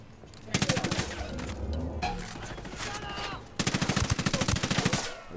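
Bursts of automatic machine-gun fire from an enemy gunner in Ghost Recon Wildlands, two loud rapid rattling volleys close by with a busier stretch of game sound between them.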